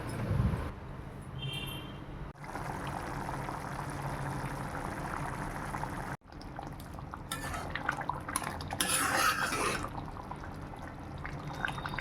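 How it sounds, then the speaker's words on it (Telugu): Steady scraping and mashing of dough with water in a kitchen pot, a continuous close rumble with occasional utensil clinks and brief pauses, no talking. "కొన్ని వాటర్ యాడ్ చేసుకున్న తర్వాత మళ్ళీ ఒకసారి దాన్ని అంతా మెత్తగా మెదిపేసుకోవాలి."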